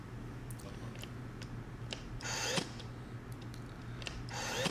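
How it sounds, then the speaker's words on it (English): A staple gun drives staples through leather into a board while a console is being modified, giving two fairly quiet, sharp bursts about two seconds apart over a steady low hum. "I just use my staple gun."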